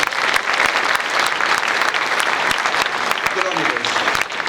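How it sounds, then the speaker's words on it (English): Audience applause for a guest named Bruce at a talk on bio-energy fields, a dense, steady wash of clapping from a crowd that holds loud for the whole stretch, with a few sharper individual claps and faint voices near the end. "a round of applause for Bruce"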